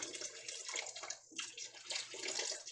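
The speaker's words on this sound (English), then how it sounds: "get all that water drained out" Water pouring and splashing out of a hot sanitized canning jar lifted from a canner, a steady close trickle and gush with a brief pause midway, no talking.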